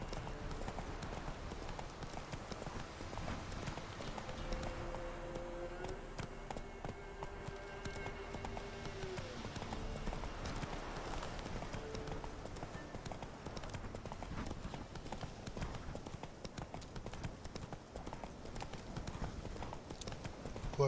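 Horse hooves gallop in The Witcher 3 video game, a steady clip-clop rhythm running throughout beneath a faint game soundscape of wind and low tones, fairly quiet overall.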